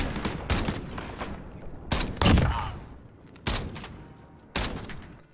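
Rapid gunfire bursts in the online shooter Call of Duty: Modern Warfare, a skirmish match, with several sharp volleys spaced a second or so apart, loud and close, ringing with reverberant tails.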